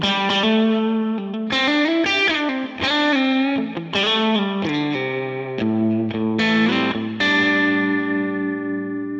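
Electric guitar played through a modulated reverb on a Line 6 Helix, with distorted chords and notes ringing with shimmering chorus-like wobble and lingering reverb tails, played alone.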